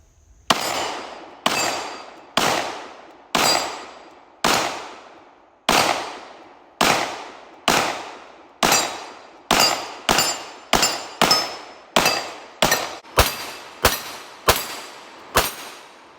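Unsuppressed pistol shots from a handgun fitted with a Recover 20/20 stabilizer kit ring out outdoors, about twenty sharp loud cracks, each trailing into a short echo, coming slowly at first and then faster.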